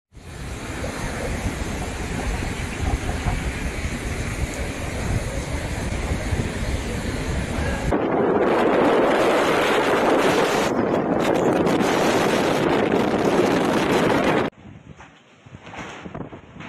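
Extremely severe cyclonic storm Biparjoy with gusts near 195 km/h: loud, continuous roaring wind and crashing surf buffet the microphone for about fourteen seconds, shifting to a harsher hiss midway, then dropping abruptly to a quieter rumble.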